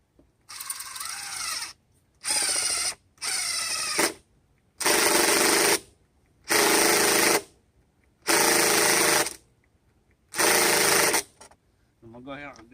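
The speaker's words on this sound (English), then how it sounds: "Go ahead and just keep on putting screws in until I got this all tightened up" A power drill drives screws into a no-dig garden border in seven or eight separate bursts of whirring, each lasting about a second, with short pauses between them.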